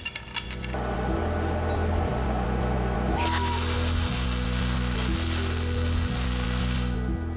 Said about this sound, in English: And grind the head smooth again.